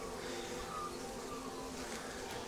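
Honey bees swarm around a freshly removed hive, giving a steady, dense buzz that holds at an even level throughout with no pauses.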